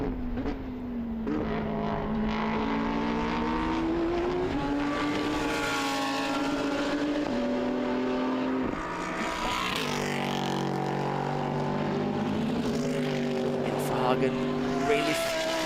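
Race cars at the Hungaroring brake hard into a chicane during an endurance cup race. Engine notes drop sharply through downshifts and then climb again, with several cars overlapping at a middle distance. A commentator talks over the sound.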